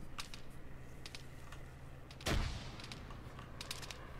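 A single muffled crack from a suppressed VSS rifle in the Arma 3 video game, sounding a short way off, with faint clicks and steady battlefield ambience before and after.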